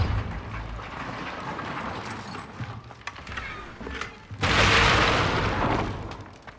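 A Depulso force spell cast in the video game Hogwarts Legacy gives a sudden loud whooshing burst that holds for about two seconds, rising out of a rumbling background of game effects.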